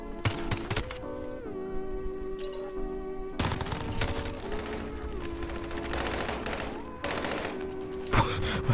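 Rapid bursts of video game gunfire in a Modern Warfare match, several loud clusters of sharp shots separated by short gaps, set over a steady droning music bed.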